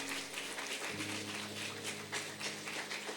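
A church congregation claps at a revival conference, faint rhythmic applause with pulsing hand claps over a low sustained organ-like tone.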